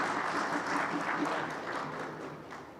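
Applause at an annual association meeting, a dense steady wash of clapping from a gathered crowd that fades gradually toward the end.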